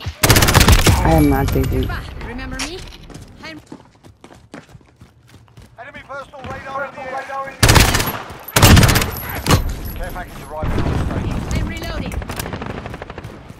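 Call of Duty gunfire: loud, rapid automatic bursts crack out at the start and again in the latter half, separated by quieter stretches, while a player talks over the action.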